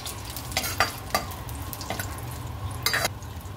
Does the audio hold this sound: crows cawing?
no